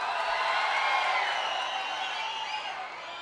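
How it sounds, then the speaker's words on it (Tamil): A large crowd cheers and roars at a political rally in Neyveli, a steady, distant wash of voices holding at an even level throughout with no single voice standing out. "இங்கே குழுமைக்கின்ற மக்கள் ஆரவாரம், எழுச்சி"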